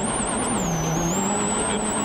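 A rally car races over a rough, twisty gravel stage at the 2011 WRC Rally Argentina, its engine roaring in a loud, continuous, high-pitched drone that does not let up.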